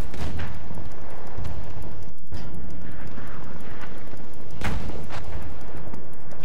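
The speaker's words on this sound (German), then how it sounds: "der lässt einmal Granaten auf mich fallen" Grenades dropped from an airship explode in the Battlefield 1 video game, several heavy booming blasts crashing among ongoing gunfire, with one especially sharp, loud burst standing out near the end.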